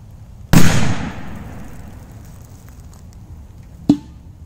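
A big firecracker explodes under a metal milk can, one sharp loud outdoor bang with a decaying rumble, followed a few seconds later by a smaller clanking impact.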